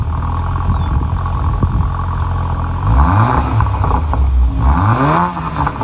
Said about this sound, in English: that exhaust note is pretty impressive for a base trim